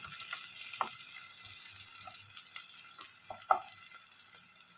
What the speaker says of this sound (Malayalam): ഉള്ളി ആവശ്യത്തിന് വഴന്നിട്ടുണ്ട്.